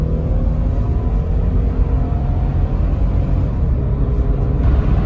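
Mitsubishi Montero accelerating at full throttle while merging onto a highway, a heavy low engine drone with steady road rumble inside the cabin, constant and loud throughout with no voices.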